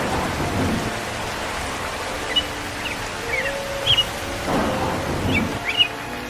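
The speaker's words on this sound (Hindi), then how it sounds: "अरे क्या ये बारिश और तूफान कब रुकेगा?" Steady rain with rumbling thunder in a cartoon village scene, continuous wash of rainfall with low thunder swells and a few faint bird chirps, no talk.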